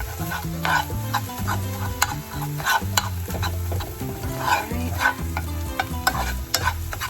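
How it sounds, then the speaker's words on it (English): A seasoning mixture with Dominican oregano sizzles in a hot skillet while a spoon stirs and scrapes it, giving repeated clicks and scrapes over a steady frying hiss, close and clear. "Stir that up."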